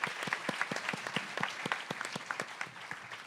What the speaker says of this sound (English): Can we have a loud round of applause for Laura, please?